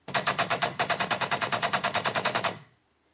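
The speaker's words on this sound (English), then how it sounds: "this gunshot sound" A rapid burst of machine-gun fire, about twenty evenly spaced shots, loud and close, stopping abruptly and leaving a short fading tail.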